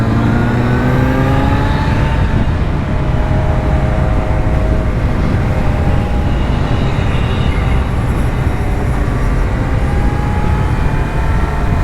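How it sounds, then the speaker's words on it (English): Small 50cc-and-under motorbikes racing in a mountain marathon in the Austrian mountains, a continuous loud engine drone with several high whining motors rising and falling in pitch as they pass. "It's a marathon for 50cc and lower size bikes."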